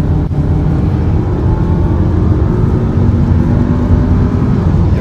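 A Volkswagen Passat engine pulls hard while shifting up through the gears, a loud, close, continuous drone heard from inside the car with no talk over it.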